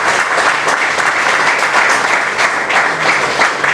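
A church congregation breaks into loud, dense applause, many hands clapping at once in a continuous, even wash of sound with no talk over it.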